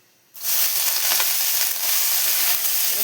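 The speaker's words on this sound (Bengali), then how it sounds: "রসুনটা পুরো লাল লাল করে ভেজে নিয়েছি এর উপরে এবার শাক দিয়ে দেবো" Leafy greens dropped into hot oil over garlic fried deep red, bursting into a loud, steady sizzle that holds for the rest of the stretch, with faint crackles and pops on top.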